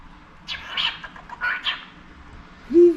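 A pet parakeet chirps and twitters indoors in several short bright bursts, then a voice speaks briefly at the end.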